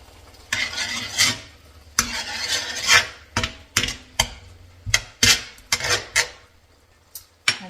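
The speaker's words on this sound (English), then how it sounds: "So I'm going to let this simmer for a few seconds." Shrimp and butter bean stew simmering in a pot, heard as irregular bursts of sizzling and stirring scrapes with short quiet gaps, close and fairly loud.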